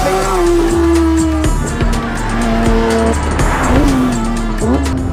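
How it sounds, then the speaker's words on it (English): Porsche 911 GT3 with a naturally aspirated 4-litre engine racing on desert tarmac: loud, close engine howl rising through the revs, with sharp drops at each gear change and screeching tyres. "The sound of a naturally aspirated 4-liter engine."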